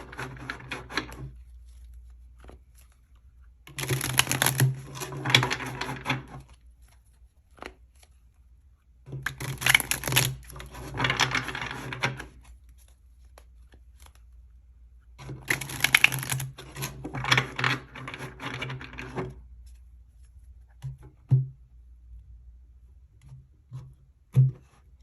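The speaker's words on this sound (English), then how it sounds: "Let's get a few more shuffles" Tarot cards are shuffled in three separate bursts of rapid riffling and flicking, each a few seconds long, with quiet pauses between them.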